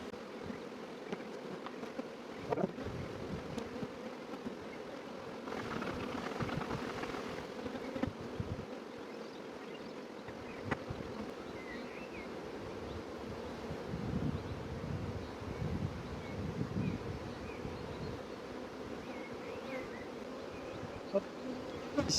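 A dense swarm of honeybees drones steadily around an open hive during a cleaning inspection, the continuous buzzing close and unbroken for the whole stretch, with faint rustling and no voices.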